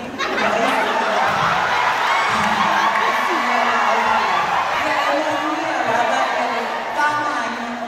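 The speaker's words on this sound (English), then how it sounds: "Another round of applause for folding a condom" Pageant audience at the Miss Fa'afafine Pageant 2022 cheering and applauding, a dense, steady crowd roar with whoops and laughter running nearly the whole time.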